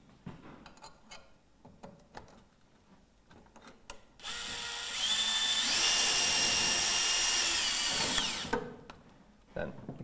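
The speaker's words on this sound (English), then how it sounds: "Then we can pop our first screw in." A power drill drives the first screw into a Duratech roof window fitting on a plain tile roof, a loud, close, steady whine lasting about four seconds before stopping, with quieter clicks and handling noises around it.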